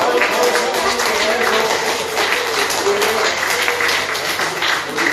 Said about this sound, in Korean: 이강성 사람들 박수를 한번 해요